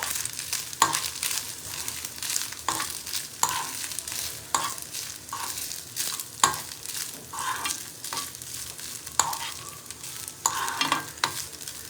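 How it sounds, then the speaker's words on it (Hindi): Ingredients stirred in a bowl for a homemade recipe, with repeated scraping and clinking strokes in an uneven rhythm, close and moderately loud, with no voices. "अब मैं इसको मिक्स कर रही हूँ"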